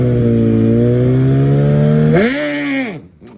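A Hayabusa drag bike launches down the strip, its engine note rising in a loud, steady climbing drone, then lifting sharply in pitch before cutting off and fading within about three seconds.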